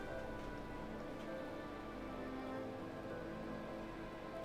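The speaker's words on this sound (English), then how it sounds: "Is it raining out there again?" Rain falls steadily in a video game, an even, continuous hiss and patter that stays at the same low level throughout with no breaks.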